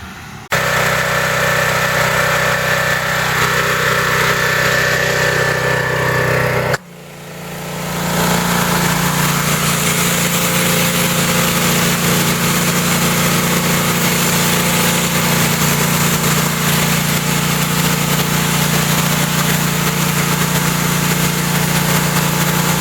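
A Generac gas-engine pressure washer runs loud and steady, a brief dip near the start before the engine drone resumes and holds without a break; nobody speaks.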